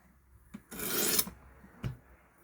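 Knife blade drawn across the abrasive of a WorkSharp Precision Adjust sharpener, one sustained rasping stroke of about half a second with a brief scrape before it and a short tap after.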